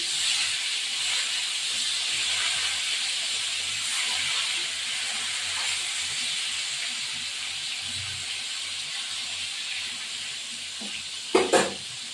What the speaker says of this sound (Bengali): তেল গরম হয়ে গেছে, কাতলা মাছ এক একে দিয়ে দেবো।